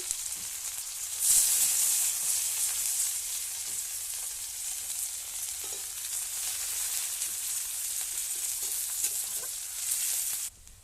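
Onions fry in hot oil in a pan for a fish curry, a steady close crackling sizzle punctuated by faint stirring scrapes, with no talk.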